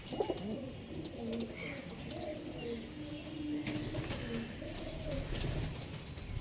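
Kalshira and Fulshira tournament pigeons cooing in a loft, repeated low burbling coos overlapping near and far, with faint wing flutters and clicks.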